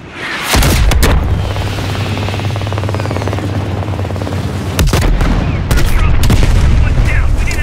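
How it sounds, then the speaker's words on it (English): Heavy gunfire in the video game Call of Duty Black Ops Cold War: loud bursts of shots and booming impacts over a continuous low engine or rotor drone, dense and close. "Taking heavy fire, waving off."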